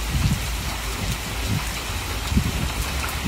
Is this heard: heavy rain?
yes